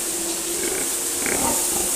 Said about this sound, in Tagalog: Ito yung inalagaan niya, mga baboy, mga inahin.